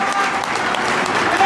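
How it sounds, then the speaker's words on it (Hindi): A crowd at an OBC public rally applauds Meshram, dense loud clapping throughout the brief moment with voices mixed in. "एक बार नमन करना चाहिए जोरदार"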